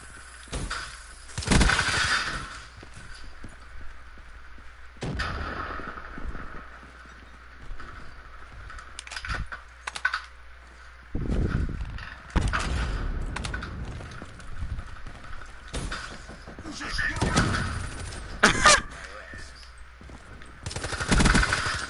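Gunfire in a shooter video game, with scattered bursts of rapid shots and single cracks of varied loudness. They come in irregular clusters with quieter stretches of game ambience between them.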